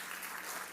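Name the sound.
audience applause for Ruchira Gupta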